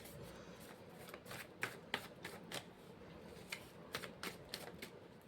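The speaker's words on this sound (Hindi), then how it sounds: "तो मैं कार्ड शफल करती हूँ" Tarot cards are shuffled close by in a quiet room, a series of quick riffling bursts and soft card snaps in an uneven rhythm.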